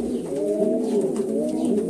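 Domestic pigeons in a Cuban pigeon fancier's loft coo in a steady, continuous throaty murmur, close by and fairly loud, with no talking.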